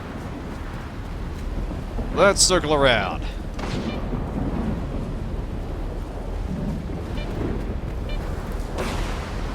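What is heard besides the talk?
thunderstorm in the S.T.A.L.K.E.R. 2 video game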